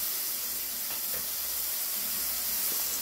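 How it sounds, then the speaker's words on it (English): Garlic sizzles in a hot pan for arroz con pollo, a soft steady hiss close by with a few faint clinks of cookware. "Listen to that sizzle."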